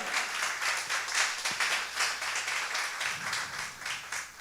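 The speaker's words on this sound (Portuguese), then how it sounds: "Vamos dar um aplauso ao Senhor Jesus Cristo" Church congregation applauding together, a dense steady patter of many hands filling the room at moderate level, with low hum underneath and no speech.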